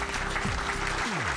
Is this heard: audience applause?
yes